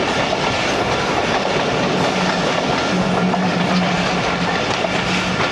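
The Sialkot Express rolls along the line between Sialkot and Wazirabad, a loud continuous rumble of wagons with rhythmic wheel clatter, heard from on board.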